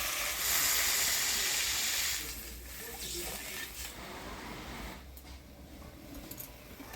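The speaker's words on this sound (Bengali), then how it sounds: "মশলাটা আমি ভালোভাবে কষা নিলাম এবার জল দিয়ে দিই" Water poured into a frying spice paste, a loud hissing sizzle that surges at the start and then settles into a softer steady bubbling hiss, close up with no talking.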